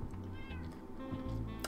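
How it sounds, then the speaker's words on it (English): Minecraft cats meow over and over in quick succession, overlapping one another at close range in a constant chorus of in-game mewing. "constant meowing. I need to distribute these cats or I'm gonna go insane"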